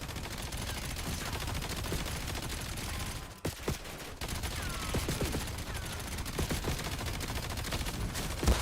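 Gunfire in the shooter Black Ops, a dense fusillade of rapid shots running steadily through the scene, with a brief dip partway before the bursts resume at similar loudness.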